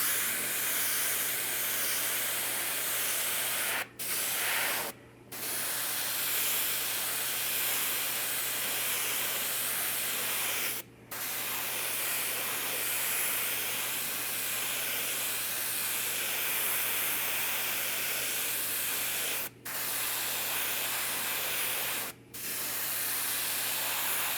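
An airbrush-style paint sprayer running on compressed air gives off a loud, steady spraying hiss, interrupted by five brief pauses spread across the stretch, over a low constant hum.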